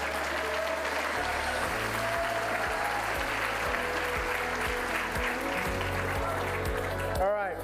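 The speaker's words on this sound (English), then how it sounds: "Give me a round of applause." An audience at a demo day gives steady, full applause that carries on throughout, with background music thumping beneath and brief voices in the crowd.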